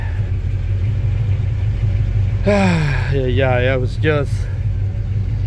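Pontiac Grand Prix engine idling after an ignition switch repair, a steady low rumble running throughout while someone speaks briefly over it.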